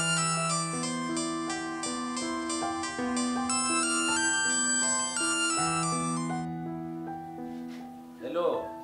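Mobile phone ringtone playing a looping melody of bright tones for several seconds, then cutting off. A brief voice follows just after.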